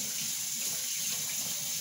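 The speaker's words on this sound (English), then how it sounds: "go ahead and wash your hands like I'm going to do" Hands washed under a running kitchen tap make a steady, close stream of splashing water with no breaks and no voices.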